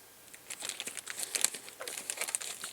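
A plastic bag holding an LED watch kit is opened close by, giving a burst of crinkling and rustling pops that grows busier partway through and keeps going to the end, with no voices.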